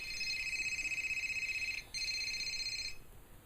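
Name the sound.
cell phone ringing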